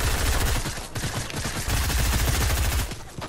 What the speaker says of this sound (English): Oh, someone is sniping. Snipers ahead.